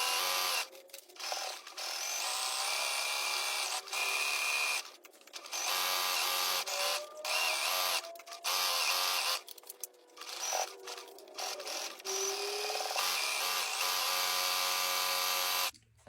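Sewing machine stitching pajama pants, a close fast mechanical whirr in repeated bursts of several seconds separated by short pauses, with brief higher whines as it speeds.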